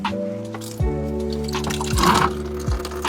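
Water trickles and gurgles through a Blumat backyard garden irrigation line while the line is purged of air, a close, continuous liquid flow with a few soft knocks over a low hum.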